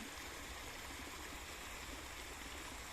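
Small mountain waterfall fed by rain and melting ice on a cold hillside, its water rushing in a steady, broadband roar that stays even and constant throughout, with no voices over it.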